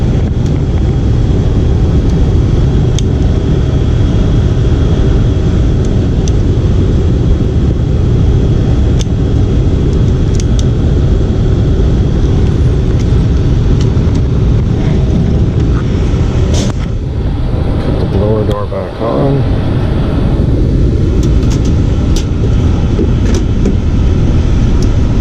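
A Lennox furnace blower motor drawing high current runs with a loud, steady, broadband roar for the whole stretch, close and constant, with a brief dip and some clatter partway through and no talking.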